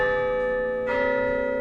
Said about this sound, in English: did you all actually hear a bell?